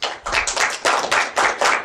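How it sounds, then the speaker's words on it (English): A small audience of about ten people claps at the end of a talk at a security conference, with sparse, uneven handclaps in a tiny room, close and fairly loud, tapering off and swelling again. "I'm getting applause."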